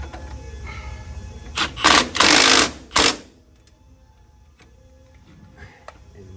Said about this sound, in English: Now it's time to tighten up the shock bolt.